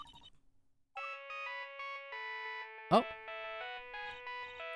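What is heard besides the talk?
old-fashioned phone ringtone in a video game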